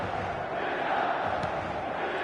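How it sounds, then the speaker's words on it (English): Football stadium crowd roaring in a steady, swelling mass of voices, loud and continuous, from a match in a video game. "the crowd are reacting to that now"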